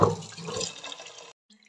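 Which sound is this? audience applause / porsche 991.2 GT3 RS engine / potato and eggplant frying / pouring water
pouring water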